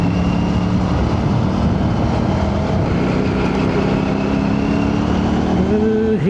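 An Aprilia RS 457 motorcycle rides onto the Bajpalli flyover, its engine holding a loud, steady droning tone under heavy wind rush, with the pitch rising sharply at the very end.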